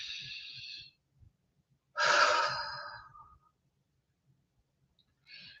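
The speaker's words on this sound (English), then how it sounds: "Now let's go ahead and take another breath" Two long audible breaths during a calm tapping session for trauma release, the louder one near the middle followed by a softer exhale, with short faint breaths at the start and end.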